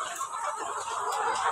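Laying hens cluck close by in a brief, continuous run of soft overlapping clucks and calls, at moderate loudness.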